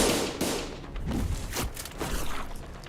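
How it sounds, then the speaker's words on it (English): Loud explosion in the video game Limbus Company, a series of sharp, booming blasts and bursts in quick succession over about three seconds, dense and close with a rumbling tail. "a loud explosion left Don Quixote dismembered where she stood"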